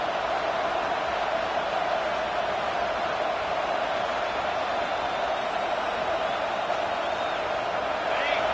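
Steady, loud stadium crowd roar in a college football video game at first and goal near the end zone, a constant wash of noise with no breaks.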